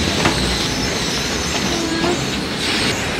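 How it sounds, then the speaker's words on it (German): Trains in a large station, with loud, continuous rolling rumble, wheel squeal and clattering rail noise close by. "Ein riesiger Bahnhof."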